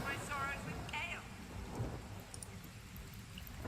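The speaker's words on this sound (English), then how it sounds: "Ah, rain, such a useful spell." A rain spell in the Divinity: Original Sin role-playing game pours a steady hiss of rainfall with low thunder rumbling beneath. Game voices and chimes cut in briefly near the start, and the wash of rain continues throughout.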